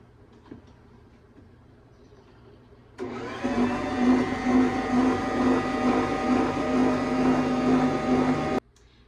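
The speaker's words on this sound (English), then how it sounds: "So I'm going to mix everything that we have now" An electric mixer starts up and runs steadily for several seconds, blending the wet ingredients and sugars for sourdough grapenuts with a loud, even motor whir, then stops abruptly; no one speaks over it.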